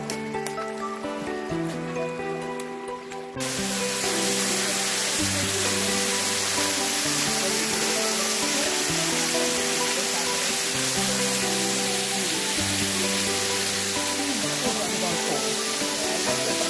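Rushing water at Caura waterfall, a loud continuous broadband roar that swells in after a few seconds and holds steady, close by, with occasional voices underneath.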